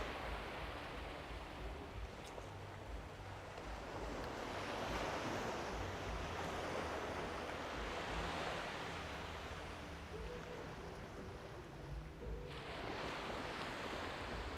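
Waves break and wash steadily on a beach at Cleethorpes at night, a continuous broad roar of surf with gusts of wind, fairly loud and close, with no voices.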